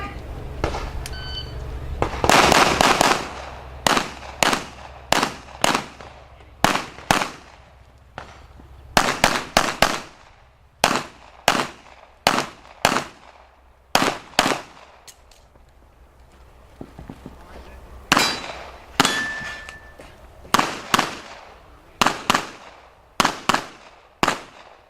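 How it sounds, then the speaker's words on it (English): Sharp gunshots ring out in rapid bursts and separated strings during a practical shooting competition stage at the 2013 Florida Open, a loud, near volley of repeated cracks with brief pauses between strings. "you'll watch them shoot a stage"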